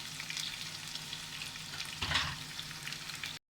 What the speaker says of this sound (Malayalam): ഇനി ഇതിലേക്ക് നമുക്ക് ഇഞ്ചി വെളുത്തുള്ളി ക്രഷ് ചെയ്തത് ചേർക്കാം.